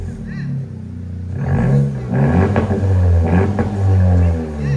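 A Honda Civic Si with a 1.5-liter engine revs up with its rev limiter removed, rising in a few loud, close surges. Excited voices talk over it.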